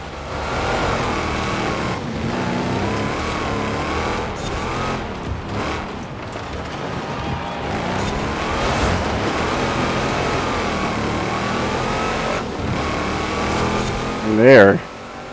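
A 2016 Jeep Trailcat with a 700-plus horsepower engine drifting in the Forza Horizon 4 video game during an off-road race, a loud, steady revving drone with shifting pitch and a brief sharper burst near the end.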